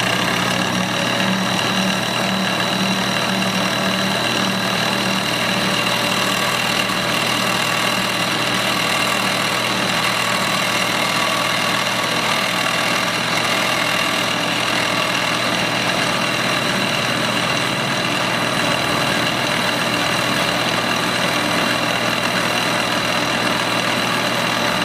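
A Kenmore 1813 sewing machine winds a bobbin, its motor giving a steady, loud mechanical whir with a faint rapid rattle that holds constant for the whole stretch, close by and with no talking.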